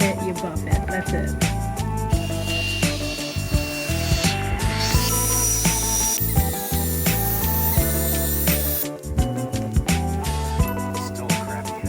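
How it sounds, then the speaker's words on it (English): Sanding and buffing the headlights on a Pontiac car, a continuous close rubbing and whirring with a steady tonal hum that pulses and shifts in intensity throughout. "Out here sanding the headlights on the Pontiac and buffing"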